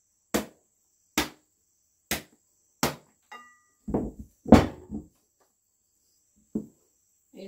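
Hard cupuaçu fruit shells are struck and cracked open: four evenly spaced sharp knocks, then a cluster of duller cracks and thuds, followed by a couple of isolated taps, all close and clear.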